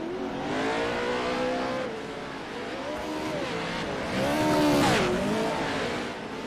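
Off-road race cars roaring around the dirt track at Crandon Raceway during a heat race, engines droning continuously with rising and falling revs as cars pass, loudest near the end.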